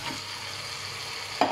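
Beef paya pieces fry in masala in a pot, a steady low sizzle under faint stirring, ending with a sharp clack of a utensil against the pan.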